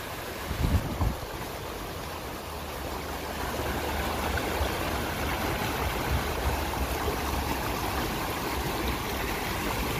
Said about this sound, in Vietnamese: Đây là suối Rạp Phú Giáo nha các bạn.